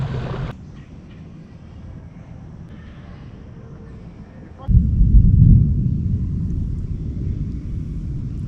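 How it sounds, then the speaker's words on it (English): Low rolling thunder over Silver River in Florida, a heavy rumble building abruptly midway and sustained loud and near, after a quieter stretch of ambient noise; a voice may be faintly present early on. "Yeah, that was thunder."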